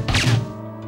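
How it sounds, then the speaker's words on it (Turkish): A door slammed shut hard indoors gives one loud, sharp thud at the start, followed by a short fading rumble. "Yavaş kapatsana şu kapıyı ya."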